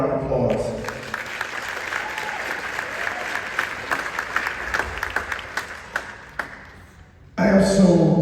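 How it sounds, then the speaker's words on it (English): Audience applause fills a hall at a city's State of the City address, steady dense clapping for about seven seconds before a sudden louder swell of voices and noise at the end. "give yourselves another round of applause"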